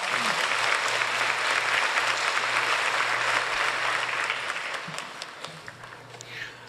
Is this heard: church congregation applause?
yes